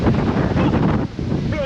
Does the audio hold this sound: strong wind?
yes